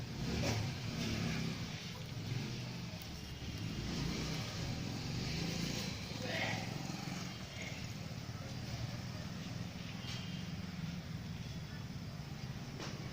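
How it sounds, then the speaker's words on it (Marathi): A car engine hums steadily with a low, continuous rumble, heard close as if from inside or beside the vehicle. Faint voices drift under the drone. "ही अनयाचीच गाडी आहे ना"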